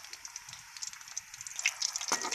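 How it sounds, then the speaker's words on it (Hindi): Green chili pakoras fry gently in oil over a low flame, giving a soft, continuous crackling sizzle that stays faint and steady throughout. "देखो हमारी मिर्ची पक रही है। इसको धीमी सी आग पे हमने आस्ता आस्ता पकाना है।"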